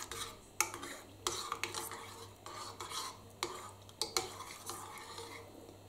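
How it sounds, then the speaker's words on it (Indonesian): Margarine being stirred into sugar water for a cassava bingka dessert, with a steady run of scraping spoon strokes and sharp clinks against the pan, close and clear, no talking. "Aduk rata biar butternya juga ikut meleleh dengan air gula."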